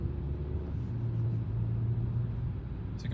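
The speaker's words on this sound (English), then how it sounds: "So you can hear that the car is nice and quiet" Steady low road and engine rumble inside the cabin of a Geely Starray SUV while driving, a soft, even hum with no talking.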